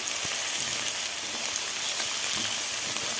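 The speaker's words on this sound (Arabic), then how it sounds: "وهنحط القرنبيط كله مع بعض كده، بنديله تلويحه كده حلوه مع بعضه" Cauliflower and shrimp sizzle and crackle as they are tossed together in a hot frying pan, a steady close frying hiss with faint stirring scrapes throughout and no talking.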